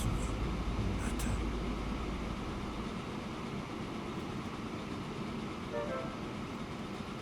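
Train running in the video game Transport Fever, a steady moderate rumble of locomotive and carriages with a louder low drone at the start that eases off, continuing evenly with no talk.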